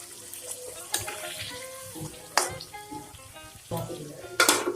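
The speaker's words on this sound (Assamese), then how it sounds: "এতিয়া মাংসটো ভাজিম ভালকৈ।" Oil crackles and sizzles steadily in a pan as duck meat fries, with sharp scraping and stirring clatters from a utensil at intervals.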